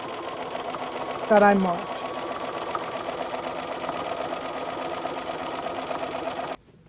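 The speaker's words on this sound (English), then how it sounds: "So I'll start stitching forwards and back. I'm going to back tack and stitch down the line" A sewing machine hums steadily while stitching a straight quilting line, including back tacking, close and continuous until it stops near the end, with a person talking over it briefly.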